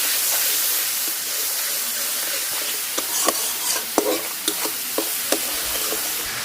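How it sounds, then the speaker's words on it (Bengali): Spices including turmeric, dried chili powder and salt are stir-fried in a pan for a Bengali thali dish, with a steady close sizzle and hiss broken by several sharp scrapes and knocks of a spatula. "হলুদের গুঁড়া, শুকনো মরিচের গুঁড়া, স্বাদ মতো লবণ দিয়ে ভালোভাবে কষাই নিই"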